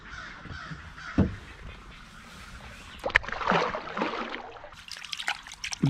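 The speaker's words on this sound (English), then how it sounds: "If y'all hear all that squawking over there, there's blue heron nest all in these trees over here" Young blue herons squawking from a nest colony in riverside trees, harsh caws and croaks bursting irregularly at middle distance over a faint water trickle.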